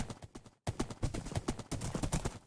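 A horse's hooves clop in Minecraft Bedrock Edition in a quick, even rhythm of near, distinct thuds. The steps pause briefly and then carry on.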